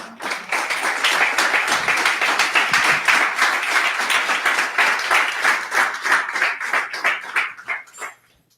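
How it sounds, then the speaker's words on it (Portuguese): A church congregation claps during a service, dense rhythmic applause building fast and holding strong for several seconds before tapering off abruptly. "Pode aplaudir a Jesus."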